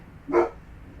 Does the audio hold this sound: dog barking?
yes